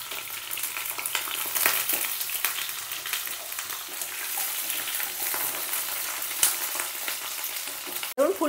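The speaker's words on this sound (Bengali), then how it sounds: "কপিটা দিয়েও ভালো করে ভেজে নেব" Cauliflower florets fry in a pan with a loud, continuous sizzle broken by scraping stirs, steady throughout and close, ending in a sharp clatter; no voices.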